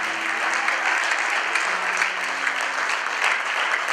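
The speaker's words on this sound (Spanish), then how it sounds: "denle un aplauso al Señor" A church congregation at a Christmas service gives a brief, dense burst of applause, steady and even throughout, with faint voices underneath.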